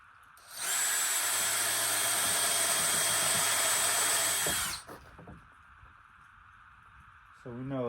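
A power drill drives screws into a wooden spice box, whirring loudly and steadily for about four seconds before it stops, followed by quieter handling noises and a brief tonal whine at the end.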